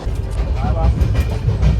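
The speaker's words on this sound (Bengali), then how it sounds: "আমি এখন ট্রেনে জার্নি করছি" Steady low rumble of a moving train heard from inside a carriage on the journey from Kolkata toward Kalka, with faint rattling and murmuring voices in the background.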